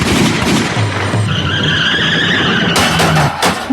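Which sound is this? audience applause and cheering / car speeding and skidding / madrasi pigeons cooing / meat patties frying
car speeding and skidding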